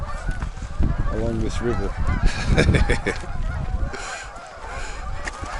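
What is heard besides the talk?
geese honking on a river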